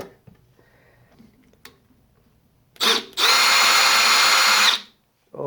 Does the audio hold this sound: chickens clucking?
no